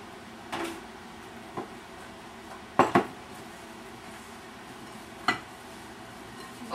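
Apple pie ingredients with cinnamon and nutmeg are mixed in a bowl, heard as quiet, sparse scrapes and a few sharp clinks of utensil against dish, with soft room noise between and no talking.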